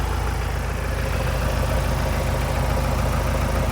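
A Ford Transit van engine idles steadily during a mass airflow sensor test, a close, even mechanical drone with a continuous low rumble and no talking.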